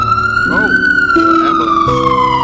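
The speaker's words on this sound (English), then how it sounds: "Ambulance." An ambulance siren wails on a New York City street, loud and close, its slowly falling tone sustained throughout as it passes, with traffic rumbling underneath.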